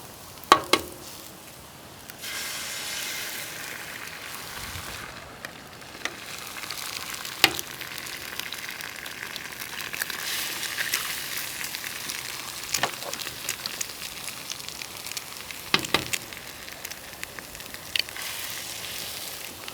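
Eggs sizzle on a Blackstone camp griddle, a steady hiss of frying that swells after they go down, punctuated by occasional sharp spatula clicks and scrapes.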